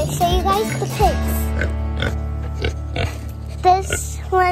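Hogs grunt and oink repeatedly at close range, short snorting calls coming in irregular bursts, with a few squealing higher notes mixed in.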